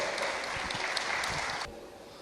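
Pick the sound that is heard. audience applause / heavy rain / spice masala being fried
audience applause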